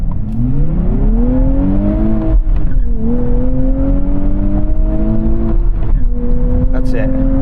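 A sports car launches hard in a drag race, its engine note climbing steadily through a loud, sustained rev with a brief shift dip, close and continuous throughout.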